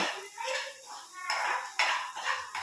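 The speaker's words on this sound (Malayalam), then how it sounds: "ഇഞ്ചി വെളുത്തുള്ളിയൊക്കെ വഴറ്റുകയാണ്" Ginger and garlic being sautéed in a pan, heard as clattering spoon-on-pan scrapes and clinks in uneven bursts over a light sizzle, close by with no talking.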